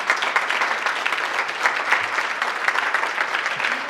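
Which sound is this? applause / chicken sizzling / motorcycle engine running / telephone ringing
applause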